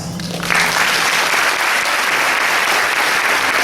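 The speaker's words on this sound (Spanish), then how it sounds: "Quiero pedir ahora también un aplauso, pero este sí que tiene que ser bien fuerte para todos los padres." A crowd at a Paraguayan harp day event gives loud applause for the parents, erupting after half a second and holding as a dense, steady roar of clapping with no voices on top.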